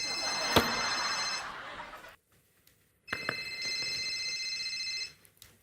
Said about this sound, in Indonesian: Telepon bunyi.